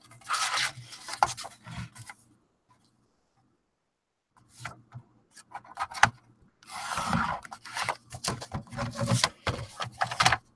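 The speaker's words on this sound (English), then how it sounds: "So I'm going to get a trimmer, and I'm just going to cut that down." A paper trimmer slices through a piece of paper during crafting, giving several close, scraping, rasping strokes in bursts separated by a quiet gap.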